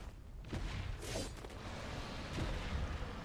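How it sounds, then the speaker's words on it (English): Cannon shots in the battle royale game Naraka Bladepoint during a pro league trios match, heard as a few dull booming blasts over a dense, noisy game mix, with no voices in the moment. "Nice cannon shots"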